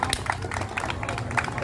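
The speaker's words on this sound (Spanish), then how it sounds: "por favor, fuerte el aplauso." An audience at a clown show applauds, a dense, steady wash of many hands clapping close by, with some voices mixed in throughout.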